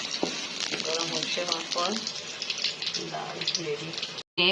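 Panch phoron spices frying with garlic and onion in a pan give a steady sizzle, heard close and under a woman's speech, with a short louder burst at the end.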